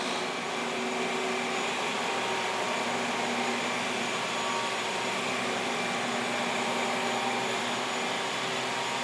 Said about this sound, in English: just got the vacuum and the brushes running